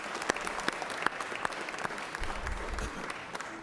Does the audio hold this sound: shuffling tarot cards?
no